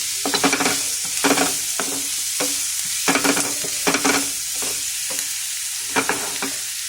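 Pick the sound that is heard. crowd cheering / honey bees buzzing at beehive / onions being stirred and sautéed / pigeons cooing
onions being stirred and sautéed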